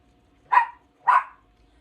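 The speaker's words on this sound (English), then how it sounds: "I hope you're not hearing my dog bark. She's just barking." A dog barks twice indoors, two sharp, fairly loud barks about half a second apart in an otherwise quiet room.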